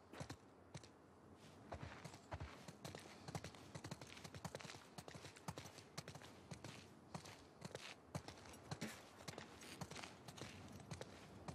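Horse hooves clip-clop steadily and close by in The Last of Us Part II, a dense run of hoofbeats that lasts the whole stretch with faint ambient noise beneath.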